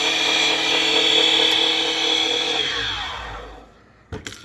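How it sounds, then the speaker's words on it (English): A Defu 368A or 998C key cutting machine mills a key, its loud steady high-pitched whine of cutter and motor running up close, then winding down and stopping, followed by a couple of brief knocks. "You should hear it stop milling the key"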